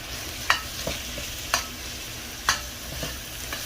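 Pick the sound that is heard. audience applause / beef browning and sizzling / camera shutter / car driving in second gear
beef browning and sizzling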